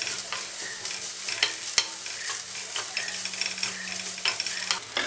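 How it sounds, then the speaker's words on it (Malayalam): Grated coconut roasting in a little oil in a hot pan for a Kerala-style prawn curry, a steady close sizzle broken by repeated scraping stir strokes, with no talking. "തേങ്ങ വറുത്തെടുക്കാനായിട്ട് ഞാനിവിടെ ഒരു പാൻ വെച്ച് ചൂടാക്കിയിട്ടുണ്ട്"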